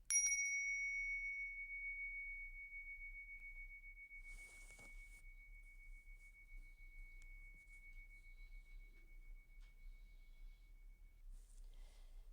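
A single bell strike ends a podcast conversation, ringing out clear and high and fading slowly over about ten seconds in near silence.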